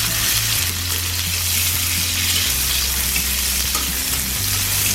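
Chopped onions sizzle and spit steadily in hot oil in a wok, a loud continuous frying hiss with occasional stirring scrapes, close up and with no voices.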